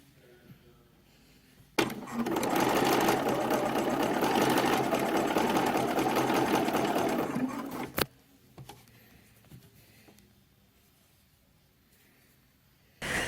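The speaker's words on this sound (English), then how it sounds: "I'm just going to top stitch it around, and then I'm going to come back and do my side slit the same way" A sewing machine runs a long continuous top-stitching pass around a dress, a steady loud mechanical whir lasting about six seconds that starts and stops abruptly, then a quieter stretch with small handling clicks and a brief restart.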